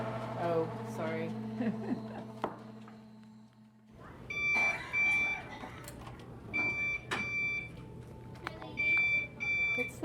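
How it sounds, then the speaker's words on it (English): Repeated electronic beeps ring out at intervals over a busy indoor background, with people talking and moving around nearby. "What's that beeping noise?"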